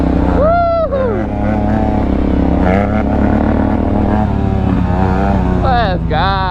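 Dirt bike engines rev and drone at an outdoor lot among a group of riders, a steady loud motor hum under shouting voices and whoops.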